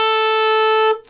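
A tenor saxophone holds one normal high B with the octave key on, a bright sustained note that rings steadily for about a second and then cuts off, heard up close and alone.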